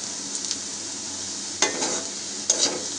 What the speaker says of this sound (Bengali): আস্তে নাড়ছি এবং এটা বাদামি রং হওয়ার জন্য অপেক্ষা করছি। পেঁয়াজটা অনেকটা বাদামি রং হয়ে এসেছে।